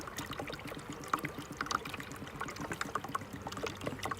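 Sugar syrup pours from a half-gallon jug into a bee feeder for a nucleus colony, giving a steady close trickling stream with small splashy bubbling accents throughout.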